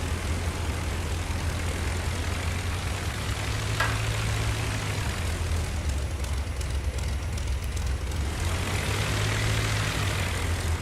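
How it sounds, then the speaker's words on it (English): Propeller aircraft engines in the Flying Circus VR game wind down toward shutdown, a steady low droning hum that fills the whole stretch with a faint brief tick partway through. "Yeah, let's cut the engines."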